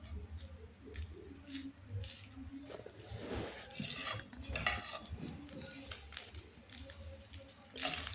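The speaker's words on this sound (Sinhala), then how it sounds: "බත් එකත් බිත්තර එකත් එක්ක හොඳට ටික වෙලාවක් තෙම්පරාදු කරගන්නවා." Cooked rice and egg are stir-fried in a pan, with soft scraping and stirring, light clinks of a utensil on the pan and a faint sizzle, all quiet and close.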